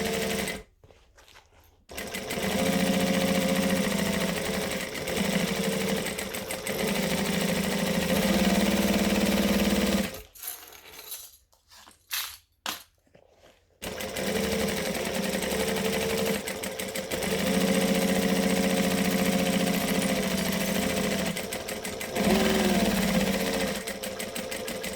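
A sewing machine back stitches along a bag with a steady close mechanical whir. It stops briefly for a few seconds of quiet handling, then resumes and runs continuously to the end.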